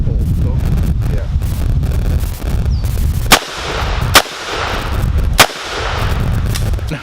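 Three sharp firearm shots, from guns such as an AR-15 or a revolver, crack out about a second apart outdoors over steady wind rumble on the microphone.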